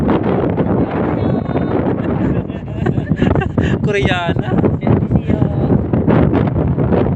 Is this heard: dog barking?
no